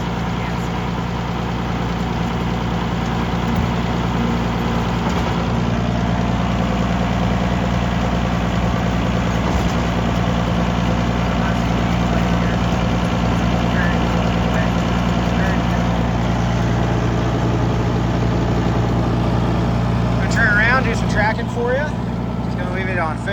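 A Cat D4C bulldozer engine runs loud and steady, a continuous deep diesel rumble with a constant drone and little variation, and a brief burst of clatter near the end.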